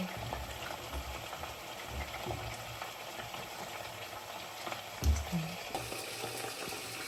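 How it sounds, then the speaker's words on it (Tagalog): Chicken pieces sizzle steadily as they brown in a pan, a continuous quiet crackling hiss with one brief louder knock partway through. "Ito yung niluluto kong chicken. Papaano ko lang siya. Papa-brown ko lang siya ng konti."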